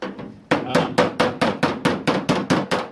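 Hammer blows on the panel of a Ford Falcon or Fairlane car, about ten sharp metallic strikes in a steady rhythm after a brief lighter tap, loud and close with no talk.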